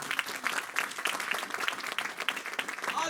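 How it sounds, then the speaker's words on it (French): A church congregation claps and applauds together, a dense, lively patter of many hands that fills the room steadily throughout. "Donnez une acclamation pour nous."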